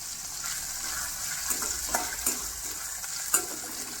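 Cashews and raisins frying in hot ghee, with a continuous soft hissing sizzle close by and a few light scraping taps of a spoon in the pan, with no talking.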